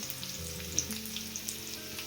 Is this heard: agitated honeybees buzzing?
no